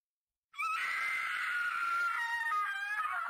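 A loud, sustained scream from a horror video game, Mermaid Swamp, rising sharply out of silence and holding a wavering, shrill pitch for about three seconds.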